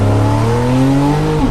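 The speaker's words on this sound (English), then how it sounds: "The new sound of the GTS is equally impressive." Engine note from a 2017 Porsche 911 GTS with sports exhaust and central tailpipes rises in pitch under load in a loud, close, rich revving howl, then drops sharply at the end.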